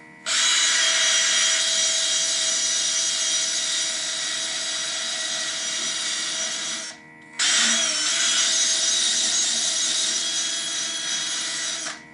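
A power sander grinds steadily on the metal of a tiller, stripping it down to bare metal, a loud, continuous high whine running alone for about seven seconds, pausing briefly, then resuming.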